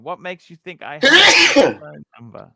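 A single sharp, forceful sneeze bursts out in the middle, with a person talking just before and after it.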